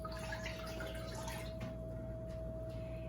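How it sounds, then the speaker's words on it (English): Water and vinegar pouring into a pan for a triple batch of watermelon rind pickles, a soft continuous trickling splash under a steady low hum, fairly quiet and close. "I'm going to add my water and vinegar."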